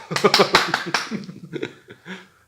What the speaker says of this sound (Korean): 박수 한번 쳐